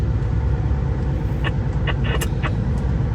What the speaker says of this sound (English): Cement truck slowing down.